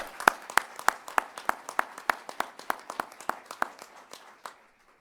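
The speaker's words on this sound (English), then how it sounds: "please join me in offering a round of applause" Sparse, rhythmic clapping from a small audience at a NASA Headquarters honor awards ceremony, distinct individual claps spaced evenly and tapering off into silence.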